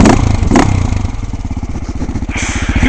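A dirt motorcycle climbs a steep hill trail, its engine loud and close, pulsing in a fast steady rhythm with clattering and thumps from the rough ground.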